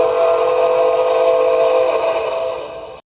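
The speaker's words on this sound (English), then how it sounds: "driving a steam locomotive with a whistle that sounds a little bit something like" A loud steam whistle blows in one long sustained blast, bright and steady, fading slightly at the end.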